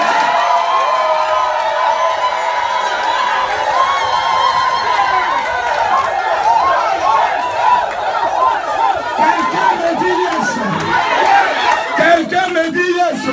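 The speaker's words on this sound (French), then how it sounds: "J'ai dit acclame comme si tu venais de recevoir 1 milliard." A congregation on a pilgrimage day in Israel cheers loudly on cue, a dense swell of shouts, whoops and excited chatter that builds toward the end.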